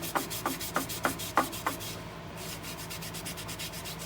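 Wood shavings rubbed by hand into the cracks of a turned black walnut bowl, close rhythmic scrubbing strokes about five times that then fade into a quieter steady rubbing, with no talk.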